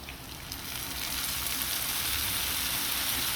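Ginger-garlic paste mixed with turmeric, chili, salt and water hits hot oil with fried onions in a pan for rohu fish bhuna, sizzling up into a loud, steady crackle that swells after the first second.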